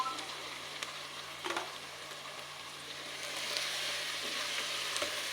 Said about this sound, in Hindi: टू मिनट्स के लिए आलू को मेथी के साथ अच्छे से भून लेंगे